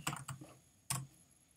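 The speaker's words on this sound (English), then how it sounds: "I'm going to type in free fonts." A few quick keystrokes on a computer keyboard, close and crisp, in two short bursts separated by a pause, with no voices.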